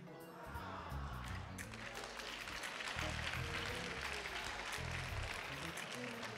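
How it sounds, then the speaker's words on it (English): Church congregation clapping during a Sunday morning worship service, a broad wash of applause building after the first second and continuing steadily, with a voice speaking over it at moments. "I thought y'all would clap a little bit better than that"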